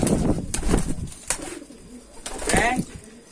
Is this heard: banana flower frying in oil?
no